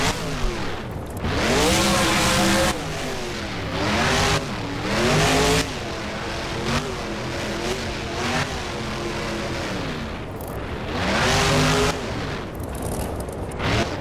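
El Toro Loco monster truck driven in the BeamNG game on a monster jam racing and freestyle course, its engine revving and accelerating loudly in repeated surges with tire noise, continuous and close throughout.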